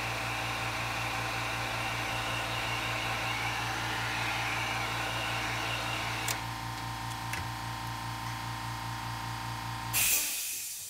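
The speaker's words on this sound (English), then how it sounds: "I'm going to add a little heat and dry some of this up." A hair dryer blows steady, close, hissing air for about ten seconds to dry airbrushed paint, then cuts off abruptly.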